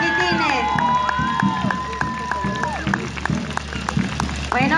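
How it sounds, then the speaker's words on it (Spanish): A crowd at a town festival's queen candidate event applauds and cheers for young children, with claps and shouts rising over music with sustained tonal lines and a steady low hum. "Un fuerte aplauso para los chiquitines."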